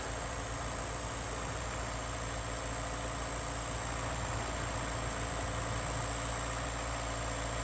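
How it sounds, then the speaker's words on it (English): A tractor engine idles steadily in the open, a continuous low droning hum with no break and no speech. "Really happy with this tractor though. Been working great."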